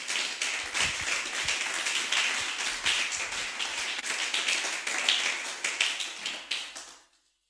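A congregation claps in a lively, rapid rhythm at a church service, steady and loud throughout before fading out at the end.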